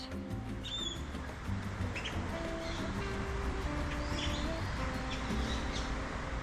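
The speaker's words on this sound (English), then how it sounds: "Lots of birds." Small birds chirping outdoors near a river in a Mexican neighborhood, scattered short high tweets and whistles over a low background hum of distant activity, no voices.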